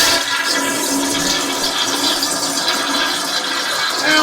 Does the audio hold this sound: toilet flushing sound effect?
yes